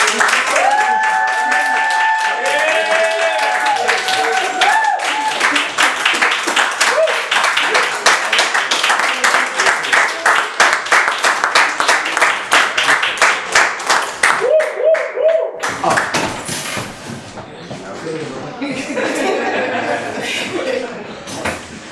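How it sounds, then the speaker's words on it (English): A live audience at a Philadelphia poetry and music performance gives a strong round of applause for performers on stage, dense clapping with some cheers and scattered voices, fading into a lighter murmur and talk toward the end. "give them a round of applause on the stage"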